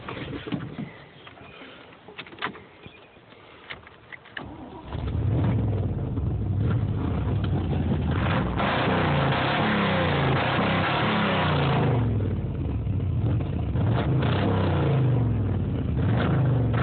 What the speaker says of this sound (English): And, let's get a cold start of it.